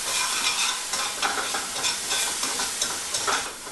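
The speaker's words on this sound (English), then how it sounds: "By sauteing off the garlic and the shallots, we're able to get a lot more flavor out of them." Garlic and shallots sauté in a pan with a close, steady sizzle and repeated soft scrapes of stirring. No voices.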